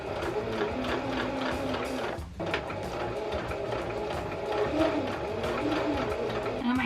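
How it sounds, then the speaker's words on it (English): A sewing machine stitches silky fabric with a continuous close whirring rattle, its steady rapid needle strikes pausing briefly once midway before the run carries on, with no talking. "the sewing machine can actually overpower it and pull the fabric tighter than you want it to"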